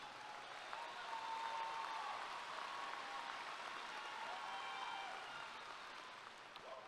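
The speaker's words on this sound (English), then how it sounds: "Let's give Devontae a round of applause." A graduation audience at a high school ceremony claps in a soft, distant and sustained patter, with faint cheering mixed in and a gentle fade near the end.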